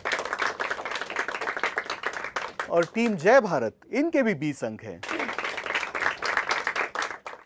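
An audience at a Hindi quiz competition applauds the tied teams, bursts of brisk clapping at the start and end with a host talking in between, cheerful and close.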